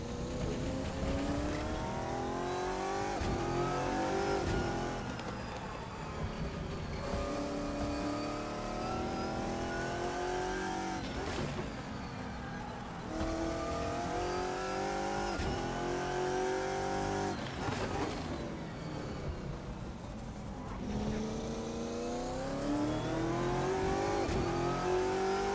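A GT1 race car in the Assetto Corsa video game revs hard around Laguna Seca, engine notes climbing and dropping repeatedly through gear changes, loud and close throughout.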